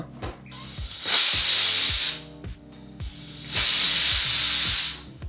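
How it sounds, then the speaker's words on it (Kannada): A kitchen pressure cooker on the stove, cooking sweet corn pulao, lets out two long loud bursts of hissing steam, each lasting about a second, with a quieter rattling in between. "ಈಗ ಕುಕ್ಕರು 2 ವಿಸಲ್ ಬಂದಾಯಿತು."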